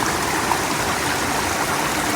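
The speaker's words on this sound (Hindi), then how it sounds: "ये पानी जाएगा सीधे गिरिया वाले घर पे" A mountain stream in a Himalayan village flows in a steady, full rush of running water, close and continuous throughout with no voices.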